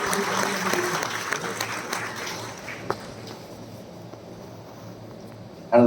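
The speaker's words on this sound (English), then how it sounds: "A round of applause." An audience at a district cabinet installation ceremony gives a round of applause, fairly dense at first and then thinning and fading out.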